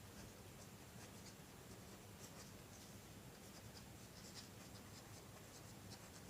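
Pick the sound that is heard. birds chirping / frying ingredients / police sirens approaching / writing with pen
writing with pen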